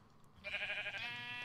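A single Minecraft sheep gives one quiet, wavering bleat, faint and short, heard alone over low background.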